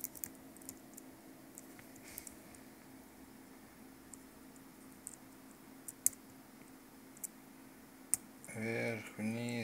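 Computer keyboard keys tapped through a VNC server connection, heard as sparse, faint clicks and ticks over steady background hiss, with a voice briefly near the end.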